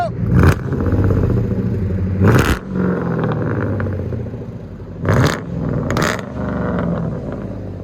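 A Ford Grand Marquis-style Crown Victoria 4.6L V8 with Vibrant True Duals exhaust, idling with a deep steady rumble, broken by a few short sharp revs or clattery bursts, heard up close outdoors.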